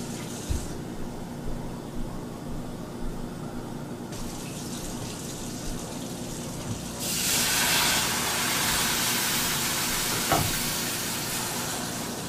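Water or broth poured into a bowl of egg foo young mix in a home kitchen, heard as a soft, steady trickling pour that swells louder partway through over a constant background hiss.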